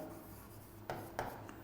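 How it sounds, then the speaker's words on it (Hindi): Marker or chalk strokes on a board, a few short scratchy bursts over a quiet room hum. "तो इसके ऊपर लिखता हूँ"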